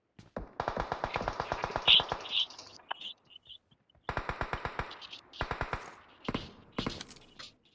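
Rapid automatic gunfire in PUBG Mobile comes in close, loud bursts of evenly spaced shots, separated by brief pauses, with game effects around them.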